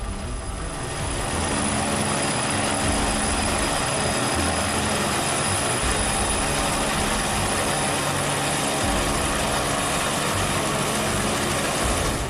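A rescue helicopter flies among jagged rocky mountain peaks, its steady engine and rotor roar filling the whole stretch at constant loudness, with a fast mechanical chatter and no voices.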